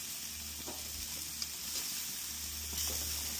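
Pork ribs and fish sizzle on a barbecue grill at a family dinner, a steady close frying hiss running evenly throughout with a few faint clinks over it.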